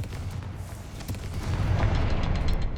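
Fire spell explosion in the video game Hogwarts Legacy, a loud sustained low boom and rumble that swells partway through and continues to the end with crackling debris.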